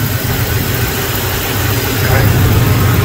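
Engine of a 1970 Oldsmobile Cutlass running steadily with the AC pump turning, a loud continuous low rumble that swells slightly toward the end.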